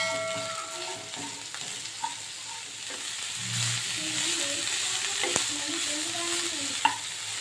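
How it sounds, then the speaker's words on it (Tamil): Broad beans sizzling and frying in oil with occasional stirring, a steady crackle and hiss with a few scraping knocks. "அவரைக்காவை ஆட் பண்ணிட்டு இந்த எண்ணெயிலே ஒரு வதக்கு நல்லா வதக்கிக்கலாம்"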